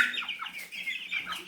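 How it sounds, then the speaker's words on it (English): Chickens, including a Black Australorp, cluck in quick overlapping bursts at close range, a short busy run of calls with no talking over them. "Come on, my chicken friends."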